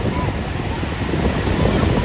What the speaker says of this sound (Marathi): फक्त समुद्राचा आवाज आवाज फक्त इकडेच ऐकायला मिळणार